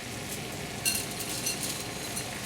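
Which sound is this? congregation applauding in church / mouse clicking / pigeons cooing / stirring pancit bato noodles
stirring pancit bato noodles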